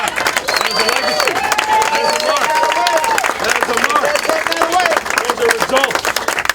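An audience claps and cheers through a 2019 speech by a politician, a dense, continuous patter of many hands with the speaker's voice carrying over the crowd.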